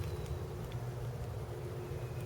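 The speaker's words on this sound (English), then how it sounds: "I just had a C-130 come over the top of me here." C-130 military transport aircraft passing overhead above an open wooded camp, heard as a steady low rumble that stays constant throughout, distant and alone with no voices.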